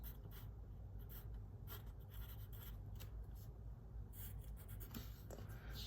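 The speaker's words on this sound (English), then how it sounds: "let's draw another picture" A marker scratches and squeaks steadily across a board while a picture is drawn during a physics lesson on velocity and acceleration, with faint continuous strokes over low room hum and no talk.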